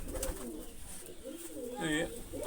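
Pigeons coo repeatedly in a loft, soft rolling calls rising and falling throughout, with a louder burst near the end, alongside other pigeons and some background noise.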